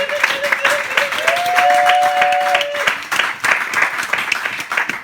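A church congregation applauding to acclaim the Lord during a worship service, a loud and steady wash of clapping with a sustained tone ringing above it partway through.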